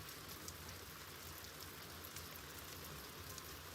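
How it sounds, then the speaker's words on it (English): Rain falls steadily in the video game Stonehearth, a soft, even patter with faint drop ticks throughout and no talk. "Uh-oh, it's raining."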